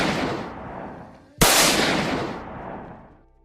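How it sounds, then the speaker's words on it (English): Artillery fire opening on a Civil War battlefield at Antietam: a sustained roaring blast fading away, then a sudden sharp loud boom at about 1.4 seconds that rolls out and decays slowly over two seconds. "Union artillery opened fire."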